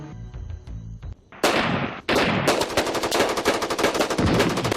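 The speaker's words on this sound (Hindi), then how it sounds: "जवाब आया भारी मोर्टार और तोप के गोलों से" Heavy battlefield gunfire with mortar and artillery shell blasts, loud and dense, bursting into rapid repeated explosive cracks after a quieter opening, sustained like a battle sound effect.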